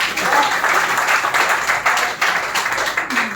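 Hearty audience applause at an International Women's Day ceremony at a national broadcasting head office, a dense, loud, sustained clatter of many hands filling the hall with no break.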